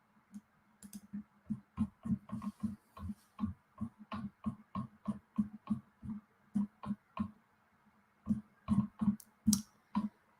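Typing on a computer keyboard: close, crisp key clicks in uneven bursts and runs, with brief pauses between groups and a short break before a final flurry.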